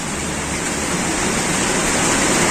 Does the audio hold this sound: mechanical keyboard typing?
no